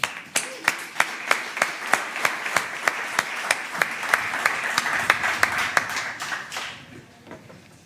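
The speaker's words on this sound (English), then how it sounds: "Please, a big applause." An audience at a youth environmental event claps in a steady, evenly spaced beat of sharp hand claps, then the clapping blurs into looser applause that fades out near the end.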